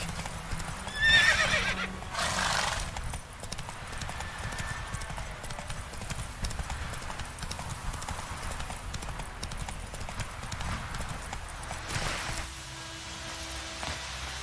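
Hoofbeats of Roach, a horse in The Witcher 3, gallop in a steady clip-clop rhythm with a whinny near the start, set against game ambience and background noise.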